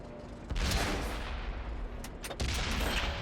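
Heavy tank cannon fire in World of Tanks on console, two deep booming shots with rumbling tails, the second landing about two seconds after the first, near and fairly loud over low engine rumble.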